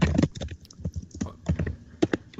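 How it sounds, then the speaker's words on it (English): Computer keyboard typing heard over a podcast call connection, clattering bursts of keystrokes in irregular clusters, close and fairly loud. "I hear Dylan typing."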